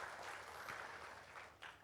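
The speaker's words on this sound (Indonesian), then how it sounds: "Tepuk tangan buat kemuliaan nama Tuhan." Faint, distant applause from a church congregation during a sermon, a soft continuous patter of clapping.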